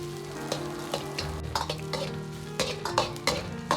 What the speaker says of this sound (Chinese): 锅中留少许的油，先下入蒜片，煸炒出香味。